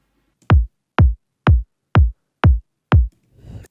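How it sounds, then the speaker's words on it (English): Six punchy electronic kick drum hits in a steady, evenly spaced rhythm, each a deep thump with a sharp attack, followed by a faint rumble. "quite a nice and punchy kick"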